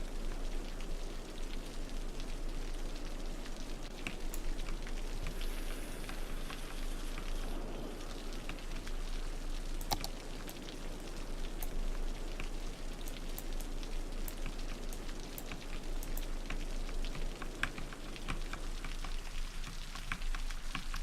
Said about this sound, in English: Why is it always raining in this game?